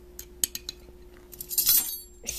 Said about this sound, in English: Stir it up, whatever you want to stir with, a fork, a spoon. I'm using a fork.